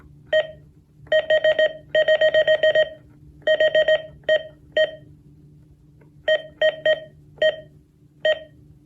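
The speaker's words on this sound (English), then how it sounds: "Let's see if there's a way to turn off those button beeps" A series of short electronic button beeps from a Uniden WX500 weather radio, some single, some in quick rapid clusters, fairly loud against a faint steady hum.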